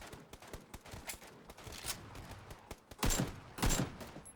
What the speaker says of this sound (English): So we fire our bullet.